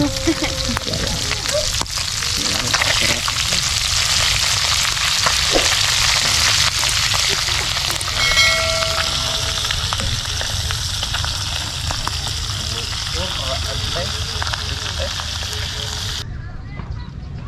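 Food frying in a pan at an outdoor cooking spot in Kalatagan, a steady crackling sizzle running throughout beneath people talking.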